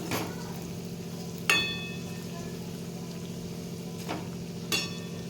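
Coriander pakodas (bhaji) frying in hot oil, a continuous soft sizzle with a few sharp clatters as the fritters are flipped.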